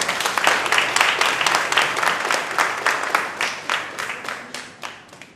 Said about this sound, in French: C'est le maître Antoine Tofio qu'on applaudit très fort.